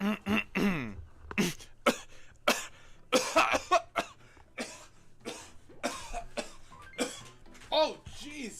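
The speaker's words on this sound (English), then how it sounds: "those fake coughs started turning into real coughs" Fake coughs that turn into real coughing: a string of close, loud separate coughs and throat-clearing bursts, with voiced sounds in between.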